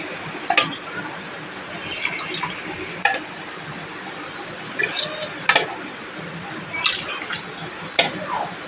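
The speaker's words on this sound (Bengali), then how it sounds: "এবারে দুধটা মিশিয়ে দেবো এর মধ্যে" Half a litre of milk, boiled down by half and cooled, is poured into a pudding mixture: soft intermittent splashes and drips, with a few light clinks, close by and fairly quiet.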